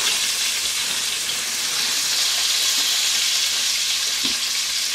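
An onion sizzles and fries steadily in a pan over medium heat as the base for braised beef short ribs in red wine sauce, a close, continuous hiss with occasional stirring and no talk.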